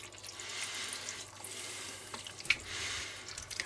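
Water poured into a cooking pot to fill it, with a steady splashing, hissing stream that rises and falls over a few seconds, with a small clink midway.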